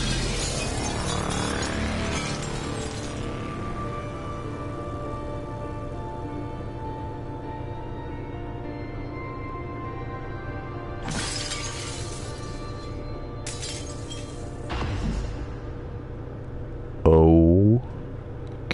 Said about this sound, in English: Maybe I can break the glass in my apartment window